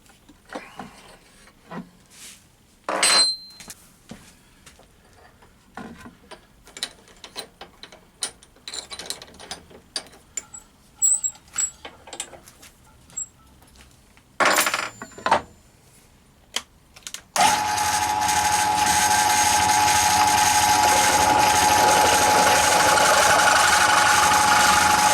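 Intermittent clicks and short mechanical whirs give way to a loud, steady whine of a 12.5 mm drill bit boring a hole for a ferrule in a keyboard, running continuously until the end.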